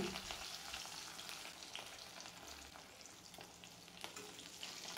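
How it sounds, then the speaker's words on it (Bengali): Katla fish sizzles steadily in hot mustard oil, a soft, continuous crackle with no voices. "তেলটাকে গরম করে নিয়ে একে একে মাছগুলোকে গরম তেলের মধ্যে দিয়ে দিলাম"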